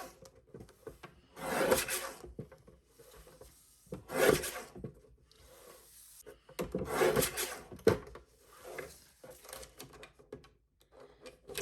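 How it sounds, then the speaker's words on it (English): Stacked cardstock is sliced into 2-inch strips on a guillotine trimmer: several close, scraping cutting strokes come at uneven intervals, with soft handling rustles between them and no talk. "And then we're going to cut them into 2-inch strips."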